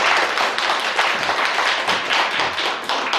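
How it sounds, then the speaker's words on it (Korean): Church congregation clapping in welcome at a service, a dense continuous wash of many hands applauding together, steady and fairly loud for the whole stretch. "우리 잘 부임하라고 박수로 환영 한번 합시다."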